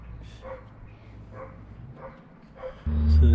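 Neighbor's dog barking outdoors at a distance, about four evenly spaced barks, moderately faint, followed by a sudden loud low engine-like rumble at the end.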